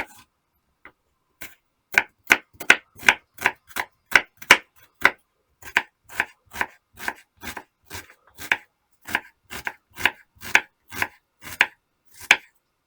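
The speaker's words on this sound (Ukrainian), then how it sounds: "Далі кубиками нарізаю цибулю." Rapid, steady knife chops dicing an onion on a cutting board, dozens of crisp taps in an even rhythm, close up with no talking.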